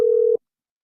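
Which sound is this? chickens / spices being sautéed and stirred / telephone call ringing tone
telephone call ringing tone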